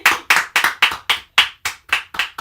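Nine slow, deliberate hand claps ring out close and loud inside a shed, evenly spaced with a short resonant decay after each one.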